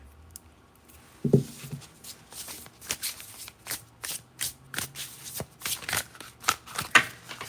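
Tarot cards are shuffled close up in a quick series of crisp, rhythmic riffles that repeat again and again.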